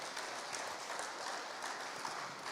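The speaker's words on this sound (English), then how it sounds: "One round of applause for Baptiste before we go on questions" Applause from a conference audience, a steady, fairly faint wash of clapping that holds evenly through the moment without a clear build or fade.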